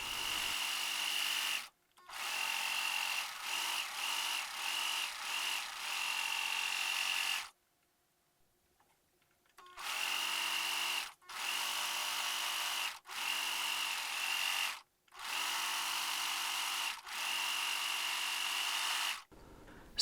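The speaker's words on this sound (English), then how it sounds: "If you have a serger, serge the center front and center back edges of the right and left mantle" A serger runs along the center front and back edges of fabric mantle pieces for a Grim Reaper costume, loud whirring motor bursts of a few seconds each, with short pauses and one longer quiet gap.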